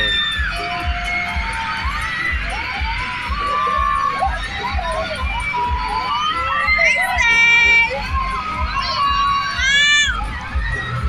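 Crowd of fans shouting and cheering loudly at SB19's arrival at a Xiaomi event venue, with excited high-pitched screams rising in bursts throughout over a constant roar.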